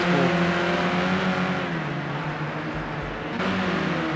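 Race cars in Project Cars 2 on Xbox at the Sugo circuit roar loudly and steadily as engines hold high revs, with pitch shifting while the cars duel closely, heard alone without talk.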